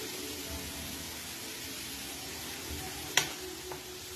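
Peanuts fry in a clay pot until golden brown, giving a steady, even hiss of sizzling oil close by, broken once by a single sharp clack of a spoon against the pot.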